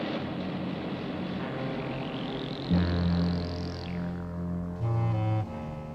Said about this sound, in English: I don't hear the airplane anymore.